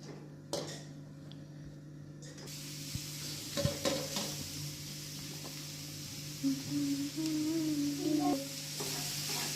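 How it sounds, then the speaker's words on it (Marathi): Grated carrot sizzles in hot ghee in a wok for carrot halwa, a steady close crackle with scraping stirs and clinks from a spoon over it, and no one speaking. "कढईत थोडंसं तूप, ते थोडंसं तापू देऊ कढईत, आणि त्यात घालू आपण गाजराचा किस"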